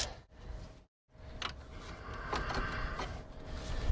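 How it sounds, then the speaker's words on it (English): Ratchet wrench clicking on a sway bar link of a 2008 Saturn Astra, close rapid ratcheting clicks in short bursts with a brief pause near the start. "that ratchet's a little too big for that job"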